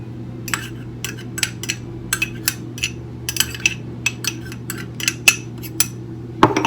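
Scone dough being mixed with lemon zest in a bowl, a utensil tapping and scraping against the dish in irregular clinks, close and fairly sharp over a low steady hum.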